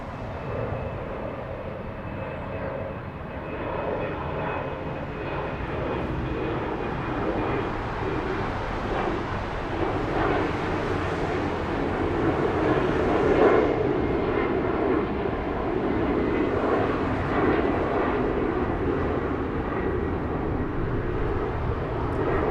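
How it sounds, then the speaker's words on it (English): Embraer 190 airliner operating at Frankfurt airport, a steady broadband jet roar that holds at a moderate distance and swells slightly toward the middle before staying level, with no talk over it. "That is German Airways, Flight 1824, on its way to Amsterdam on an Embraer 190."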